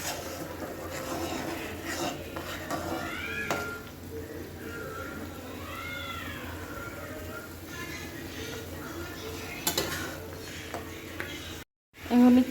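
Food frying in hot oil in a pan, a continuous sizzle with occasional stirring and clinks of utensils against the pan, with faint voices in the background.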